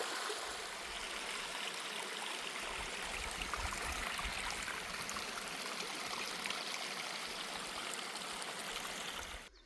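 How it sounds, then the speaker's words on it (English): A mountain stream on the Appalachian Trail between Woody Gap and Neel Gap rushes steadily over rocks, a constant close and moderately loud wash of flowing water with no pauses. "And this huge stream crossing."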